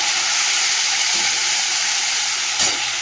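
A paste of ground mustard, poppy seed and green chili fries in hot oil with a dense, continuous loud sizzle, close up and unbroken, with a faint stir near the end.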